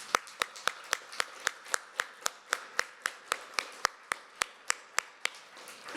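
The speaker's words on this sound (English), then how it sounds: "I want us to have one last round of applause for the panelists and for Kevin." An auditorium audience at a fair housing panel event claps for the panelists and the moderator: a steady train of sharp, evenly spaced claps, about three per second, fairly faint and crisp, with no talk over them.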